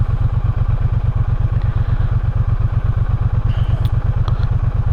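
A Triumph Bonneville T120 motorcycle idles close by with a steady, loud, even engine pulse throughout, plus light clatter and a few faint clicks near the end.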